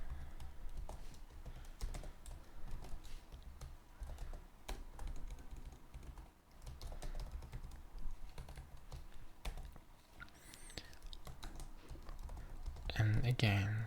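Keys clatter on a computer keyboard while C# code is entered, a quiet, uneven run of close taps with brief pauses and a faint voice underneath.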